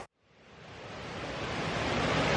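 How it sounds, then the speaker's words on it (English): A big waterfall between tall cliffs roars as a broad, steady rush of falling water that swells and builds in loudness, with no voices. "in between each of the cliffs, there's the big waterfall."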